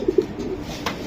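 A female racing pigeon gives a short, low coo right at the start, close and clear, followed by quiet background and a faint rustle.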